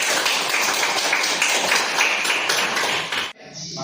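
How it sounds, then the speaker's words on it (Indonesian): A group of participants in an Indonesian civil-servant training class applauds at the end of a discussion session: dense, steady clapping for about three seconds, then an abrupt cut to near quiet. "Berikan aplaus untuk pembahasan hari ini."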